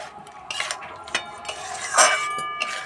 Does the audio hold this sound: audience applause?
no